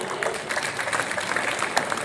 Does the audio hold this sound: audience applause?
yes